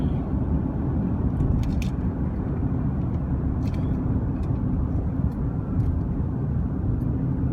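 A Chevy Colorado pickup truck rounding a corner on the way to a rural route, heard from inside as a loud, steady engine and road rumble with a few faint clicks on top.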